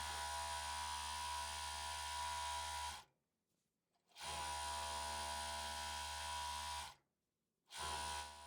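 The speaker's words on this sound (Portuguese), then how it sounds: "E agora aqui eu vou passar uma costura inteira do overlock" An overlock serger runs a full seam along fabric, evening out a ruffle, in two long steady high-pitched mechanical whirring runs broken by short near-silent pauses, then starting up again.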